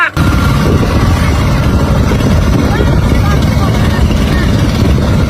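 A bangka boat's motor drones steadily and loudly throughout, a continuous low rumble with water and wind noise, close by.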